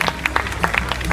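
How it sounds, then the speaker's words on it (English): Audience at a physique competition clapping in a hall, a handful of distinct, uneven hand claps popping sharply over a low room hum, close and fairly loud. "A round of applause for Matt Benbridge for supporting what we do"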